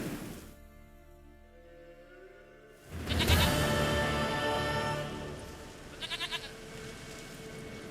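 Goat bleats in The Witcher 3: Wild Hunt, a few wavering cries against a background of game music and ambience, loudest in the middle of the clip and standing alone without speech.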